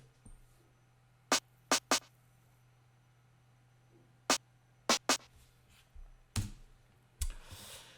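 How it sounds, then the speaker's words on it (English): Snare drum fill in a hip-hop trap-style beat built in Ableton Live, with sharp, dry hits arriving in short bursts of two and three, spaced across several seconds over a low, steady hum. "the snare fill sounds like this."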